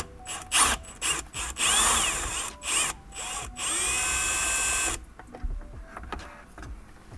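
Power drill working on bolts in a Toyota RAV4 dashboard, several short close whirring bursts followed by one longer steady run, then quieter handling clicks and rustles.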